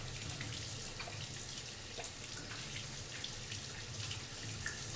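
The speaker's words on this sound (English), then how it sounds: "Welcome to the behind the scenes area while he washes his hands." Hands are washed under a running tap, a soft, steady stream of water splashing in a sink that stays fairly faint and unbroken, with no talking.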